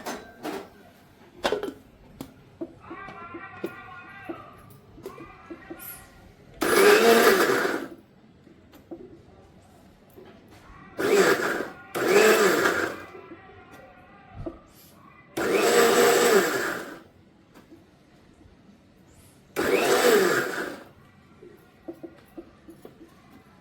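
A mixer grinder whirs through tamarind chutney in several short bursts, each a loud, close roar a second or two long, separated by quiet pauses with faint clinks and handling.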